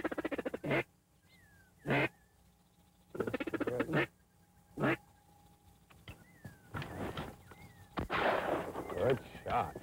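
Shotguns fire in several loud, sharp blasts during a Louisiana winter duck hunt. Ducks quack between the shots, and voices talk briefly.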